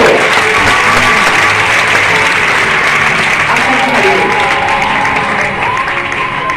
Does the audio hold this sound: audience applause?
yes